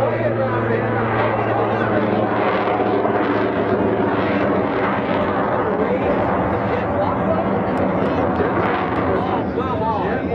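The Shockwave jet truck, a 36,000-horsepower triple jet engine truck at a Rhode Island air national guard airshow, roars with a continuous loud jet rumble and hiss, with crowd chatter underneath.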